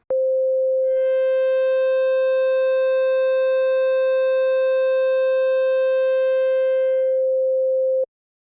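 A steady synthetic tone runs through an asymmetrical waveshaping distortion in the Wave Box plugin, sounding as a clean, bright, constant buzz of even harmonics that starts and stops abruptly, with no other sound.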